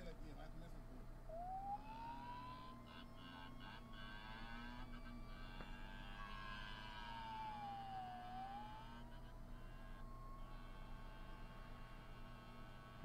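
A man imitates a siren with his voice, a rising then wavering wail that swoops up and down over a steady engine-like drone, faint and sustained for several seconds.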